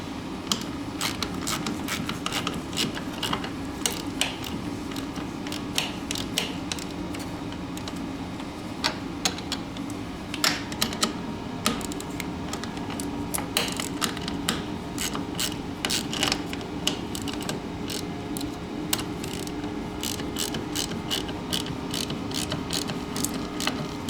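Repeated ratcheting clicks from a socket wrench tightening bolts on the rubber paddles of a Toro Power Clear snowblower, a steady run of close mechanical ticks and pawl clatter lasting the whole stretch with no talking.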